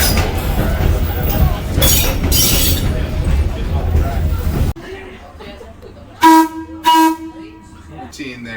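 Whistle of a vintage Chicago trolley car at a trolley museum, two short loud tonal blasts after a stretch of noisy crowd rumble and voices.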